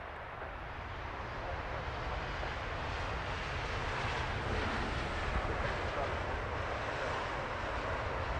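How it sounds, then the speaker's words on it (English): An American Airlines jet arriving from New York JFK lands at London Heathrow on runway 27 left, giving a continuous broadband engine roar that swells slightly and holds steady at a moderate distance. "Beautifully smooth landing there for the American."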